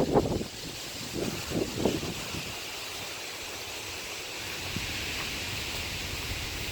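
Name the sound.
wind outdoors at the corner of a hayfield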